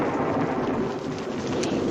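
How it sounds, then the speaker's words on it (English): Heavy thunderstorm rumbling continuously with steady rain pouring down, a loud, dense wash of noise with low thunder rolls throughout and no voices. "The storm will likely be over by the time dinner's finished."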